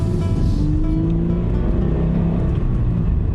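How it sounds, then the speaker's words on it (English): Toyota 86 with a horizontally opposed engine accelerating uphill, giving a steady low burble with wind and road rush running throughout, no talking. "there's a pleasing little burble. And it's that sound that anyone that's driven a horizontally opposed engine will know"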